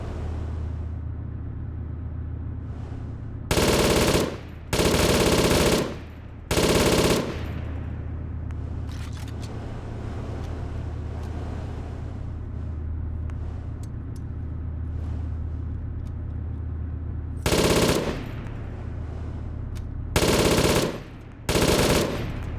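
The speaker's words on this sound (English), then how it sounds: "These guys are really enthusiastic with their machine gun against the tank." Machine gun fire aimed at a tank in the ARMA 3 Global Mobilization video game, with loud, sustained bursts repeating over a steady engine rumble, several clustered early and more near the end.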